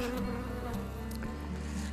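Dense, steady buzzing of about 50,000 honeybees in a hive close by, a continuous droning hum with no voices.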